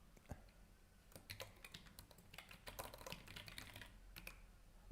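Keys clatter on a computer keyboard in quick, irregular bursts of close, light clicks, with a few louder single presses among them and no talk.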